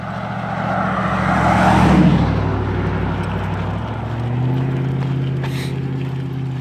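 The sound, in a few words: cars and logging trucks passing by on a remote road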